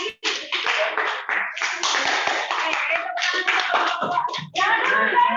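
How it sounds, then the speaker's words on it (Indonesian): A classroom of students claps for group 2 after its presentation, with brisk, uneven applause and children's voices mixed in, close and fairly loud throughout. "kita boleh tepuk tangan untuk kelompok 2"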